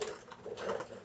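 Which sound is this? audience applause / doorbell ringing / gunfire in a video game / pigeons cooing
pigeons cooing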